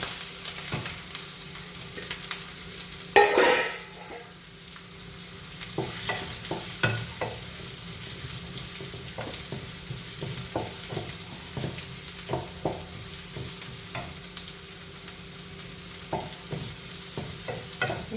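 Onion and green chili sautéing in coconut oil for a soya chunk masala curry, a steady close sizzle with intermittent spoon-scraping stirs and a louder clatter early on.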